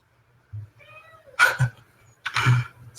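A house cat meows several times, with short rising calls spaced over a few seconds in a quiet room, close to the microphone.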